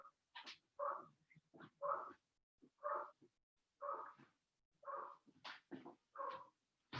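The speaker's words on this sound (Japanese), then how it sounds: "すいません、ちょっと犬がうるさいです。" A neighbour's dog barks in a string of about nine sharp, separate yaps spaced roughly evenly apart, heard faintly through a quiet indoor room with silence between the barks.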